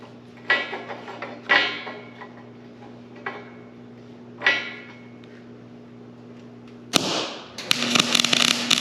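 Tack welds go onto fabricated metal in a few short crackling bursts spaced out over a steady electrical hum, followed by a sharp snap and a longer harsh sizzling arc near the end, all close by.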